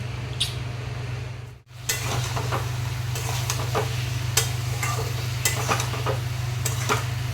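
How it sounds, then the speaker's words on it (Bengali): Fish simmering in a pan with okra and potatoes that were fried beforehand gives off a steady low bubbling hum, with occasional stirring clicks and scrapes on top. A brief dropout occurs early on, and no one speaks. "আমি ভেন্ডি আর আলু দিয়ে মাছটা রান্না করছি"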